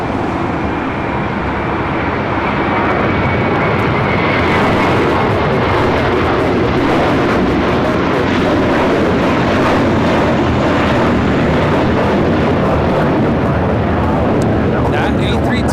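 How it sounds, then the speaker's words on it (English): A JetBlue Airbus A321 bound for Florida rolls for takeoff at LAX with a loud, sustained jet roar that swells and holds, and voices speak over the noise close by. "That A321 is meant to soar."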